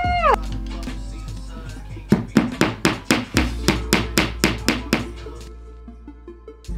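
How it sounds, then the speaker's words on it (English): A hammer strikes nails into a bedroom wall about a dozen times in a steady rhythm, each blow sharp and close, after a brief tonal sound at the start. "got my handy dandy nails, my handy dandy hammer"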